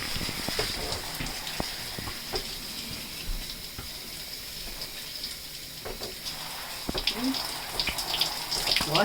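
Steady running water from a shower as soapy surfaces in a bathroom are rinsed off, a continuous hiss with scattered splashes and small knocks.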